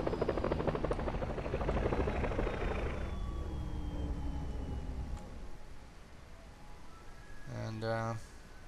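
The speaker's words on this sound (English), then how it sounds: "the good old Bell 47 helicopter" A Bell 47 helicopter in the video game Second Life: rotor chops and engine drones steadily for several seconds, then fades into a quieter hum with a brief rising whine near the end.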